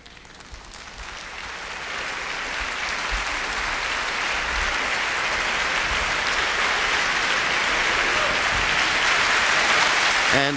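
Dense, sustained applause from a large opera audience at the New York State Theater after Act Two of Porgy and Bess, building in the first seconds and then holding steady and loud throughout.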